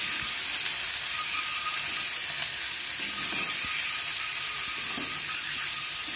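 An egg fries lightly in oil in a pan while being stirred for egg curry with new potatoes, a loud continuous sizzle with scattered scraping clicks of the spatula, close and steady, without any talking.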